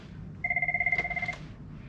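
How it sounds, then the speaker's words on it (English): A phone rings with an incoming call on board a Holland America cruise ship: a single close electronic trill of rapid pulses lasting about a second, over quiet room tone. "I have a phone call."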